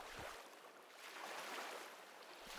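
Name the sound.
soft ocean waves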